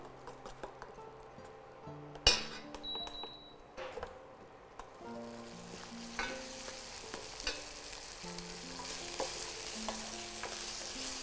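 Ingredients sautéing in oil in a pan, a quiet close sizzle that builds after a sharp clink of utensils, with scattered spoon scrapes and taps while the stirring goes on.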